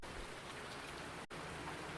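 Steady rain pours down in the Farming Simulator 19 game, a dense, even hiss of drops with a brief cut in the middle, faint and with no talking.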